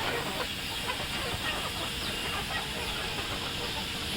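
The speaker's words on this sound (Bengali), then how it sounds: "এই যে দেখেন মুরগিগুলো চলে এসেছে" Desi chickens cluck together at morning feeding time on a poultry farm, a dense, steady flock noise mixed with constant hissy background.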